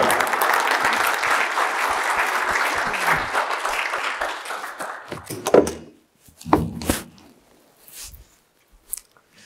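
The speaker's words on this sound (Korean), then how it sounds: "박수 모시도록 하겠습니다" Audience at a talk breaks into dense applause that holds for about five seconds, then thins into a few scattered claps and bumps before falling quiet.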